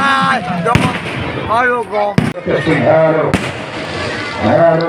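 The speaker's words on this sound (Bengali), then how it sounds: "এখানে সুন্দর সুন্দর বাজি ফাটানো হচ্ছে" Fireworks bursting at a village fair during a Gajon festival evening, with a few sharp cracks punctuating continuous nearby talking and crowd voices that dominate the sound.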